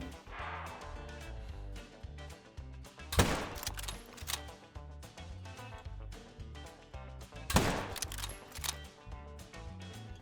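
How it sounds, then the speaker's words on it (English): Rifle shots fired at an antelope in the hunting game theHunter: Call of the Wild, on the Silver Ridge Peaks map: two sharp, loud reports several seconds apart, each cutting through steady game music. "Those shots felt good."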